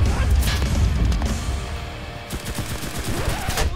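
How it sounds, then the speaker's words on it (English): Machine gun fire in the World War II shooter Enlisted, a dense fusillade of overlapping rapid bursts and distant impacts rattling through battle noise, with a fresh cluster of sharp shots near the end. "All of the machine gun fire!"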